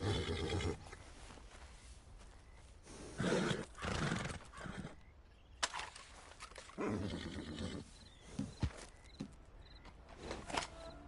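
A horse in the Red Dead video game neighs and snorts loudly in several bursts, with hoof clatter and rustling between calls, close and prominent with no talk.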